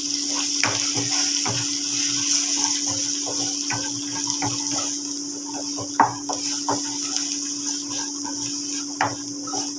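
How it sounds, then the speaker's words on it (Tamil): Onions sizzle and crackle in hot oil as they are sautéed for urundai kulambu, a steady fry with scattered stirring clicks and scrapes; no voices. "நல்லா எண்ணெய் பிரிஞ்சு வர வரைக்கும் நல்லா வதக்கணும்"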